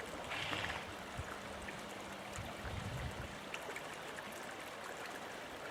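The clean River Chess flows beneath a crossing on a walk, a faint continuous wash of moving water with soft low trickles and light bumps, with no talking.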